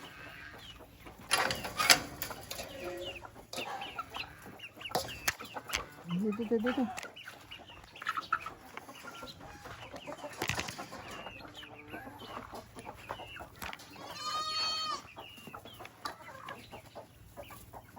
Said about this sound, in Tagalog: Pakainin na natin yung mga manok.